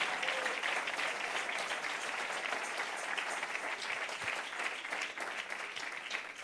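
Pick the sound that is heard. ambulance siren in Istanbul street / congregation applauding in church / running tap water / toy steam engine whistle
congregation applauding in church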